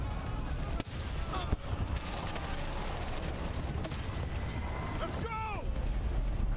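Constant heavy gunfire and artillery from the World War I video game Valiant Hearts, a dense, loud rumble of shots and booms that fills the whole stretch, with a sharp crack near the start and a brief falling whistle near the end.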